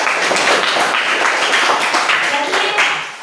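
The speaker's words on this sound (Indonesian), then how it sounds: "Berikan tepuk tangan untuk kalian." A classroom of students applauds their own group presentations, a dense, steady patter of many hands clapping at close range, with some voices mixed into the clapping throughout.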